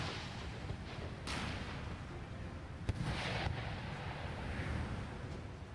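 Mortars fire in an Empire: Total War siege battle near Vienna, distant muffled booms rising above a constant rumbling battlefield wash, with one sharp crack near the middle.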